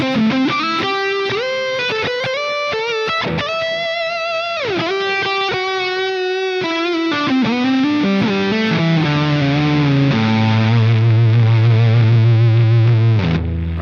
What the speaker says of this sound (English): very, very fuzzy sound on the neck